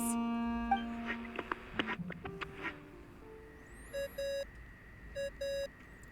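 Ringing tone in a video game, two short bursts of repeated electronic beeps following assorted game blips and tones, moderately quiet.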